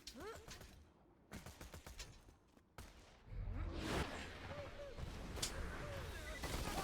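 Invader weapon gunfire from a video game, a fast burst of sharp cracking shots followed by heavier booming blasts and whooshes, with a faint voice talking in the mix.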